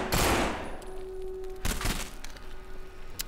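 Gunfire while sniping in the No More Room In Hell game: several sharp, loud shots spaced across a few seconds, the first one heaviest, with crackling echoes between them.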